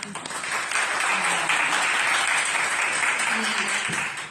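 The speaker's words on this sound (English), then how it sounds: "If I could get some applause for him." An audience at a civic dinner and discussion held in a public library claps steadily, swelling in and fading toward the end, with moderate loudness and faint voices underneath.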